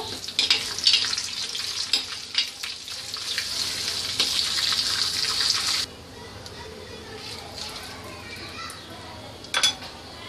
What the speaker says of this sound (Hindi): तेज पत्ता डालेंगे मिला लेंगे इसको